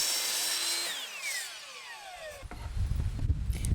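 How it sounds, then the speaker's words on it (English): A power tool cuts through wood for a bedside table build, a whining high motor pitch sliding down as the blade bites, then rougher low rumbling and rattling, close and steady. "I began with cutting down my wood."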